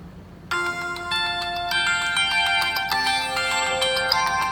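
A ringtone melody plays from the single bottom-mounted speaker of a Tecno Camon 19 Neo phone, starting abruptly after a brief pause and continuing steadily with bright chiming tones at moderate volume, with no talking.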